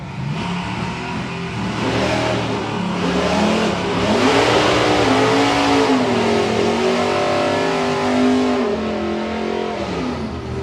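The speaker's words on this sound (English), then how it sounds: "qualifying is against Darlin in Nostalgia Superstock" Nostalgia Superstock drag racing cars accelerate hard at a drag strip, a loud sustained engine roar with rising and falling pitch sweeps across the whole stretch, no talk over it.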